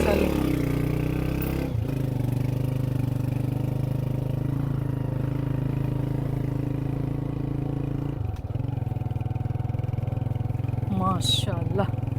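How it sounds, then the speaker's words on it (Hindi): A motorcycle engine runs steadily at idle on a village road in Pakistan, a loud, close, continuous mechanical drone that dips briefly twice. Faint voices and chatter come in near the end. "अभी फिर मोटरसाइकिल बंद क्यों की आपकी, फिर ख़राब है ये"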